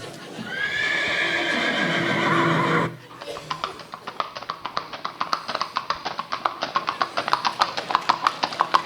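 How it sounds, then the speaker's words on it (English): A horse lets out a long, loud whinny, then hooves clop steadily and rhythmically, close by and quickening. "my horse is acting up again, kind of acting like a donkey"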